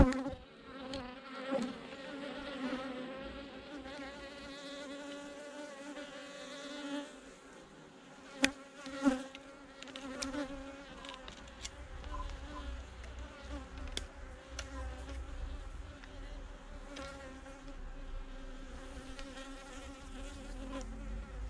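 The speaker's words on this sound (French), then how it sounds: "Et on a un frelon" Insects buzz continuously around a honeybee hive during a late-season colony merger, with a hornet among them; a dense, steady drone with wingbeat whines passing near and far, and a few sharp knocks partway through.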